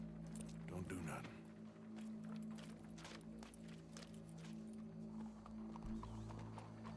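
In Red Dead Redemption 2, horse hooves clip-clop amid a dense game mix with a low steady drone, rustling and clatter, while a faint whinny rises briefly early on.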